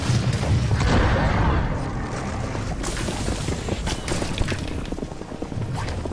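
Fireworks exploding during a hard boss fight in Minecraft Dungeons, a dense run of booming blasts and rumbling impacts that stay loud and continuous throughout, with game effects layered over them.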